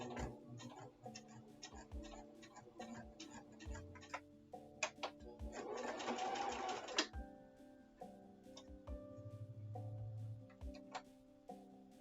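A sewing machine stitches appliqué stars in quick rhythmic ticking runs, stopping briefly at pivots and starting again, with a louder whirring stretch partway through, close and fairly quiet.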